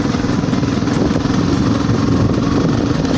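A motorcycle engine runs steadily and close during a short riding lesson in Dharan, Nepal, producing a loud, even drone with no breaks.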